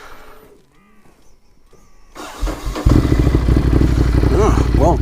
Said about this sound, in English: Let's now see if the bike restarts okay.